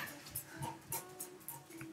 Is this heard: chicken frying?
no